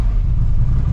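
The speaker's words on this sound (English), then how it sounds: "Okay, cold start, let's see what it does." 1965 GMC truck engine just after a cold start, idling with a steady, loud low rumble and the exhaust cutout closed, no voices over it.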